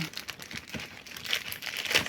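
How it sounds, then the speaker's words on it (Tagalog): Plastic packaging for ordered vitamin C supplements crinkles and rustles in close, uneven bursts as it is handled and opened. "Bubuksan na natin guys ang order ko na vitamins."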